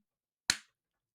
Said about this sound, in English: We got to do a clap for me